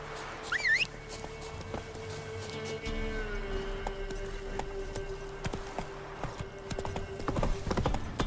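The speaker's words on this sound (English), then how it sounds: "Whoa there, Roach." Hooves of a horse in The Witcher 3 clip-clop steadily throughout, with a brief neigh near the start, backed by ambient game music and a soft low drone.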